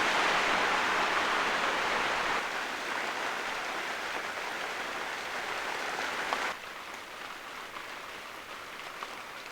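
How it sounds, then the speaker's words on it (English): Steady rain falls outside an off-grid tent shack at a solo bush camp, a dense hiss of drops on surfaces that grows slightly quieter partway through, with no talking. "It's still raining out."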